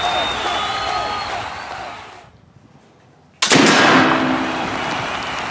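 A single flintlock Kentucky rifle shot cracks out sharply, close and loud, during a basketball-themed shooting contest, followed by a long rushing roar of noise, after a brief quiet gap.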